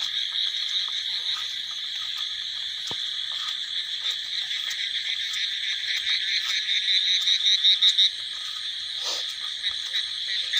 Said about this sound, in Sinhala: යායේ මැදින් යනකොට කොහොමද සත්තුන්ගේ ගෙම්බන්ගේ සද්ද ඇහෙන්නේ කියලා බලන ගමන්